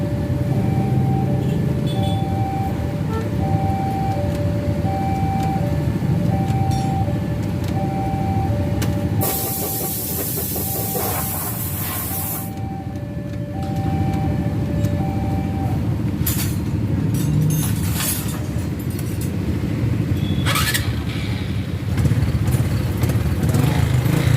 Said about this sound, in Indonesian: kalau di engkol itu motornya nggak bisa nyala, tapi kalau di starter dia nyala